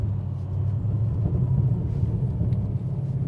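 A Coyote-swapped 1997 Ford Mustang SVT Cobra cruising at about 55 mph, its engine a deep, steady rumble heard from inside the car, loud and continuous with no voices.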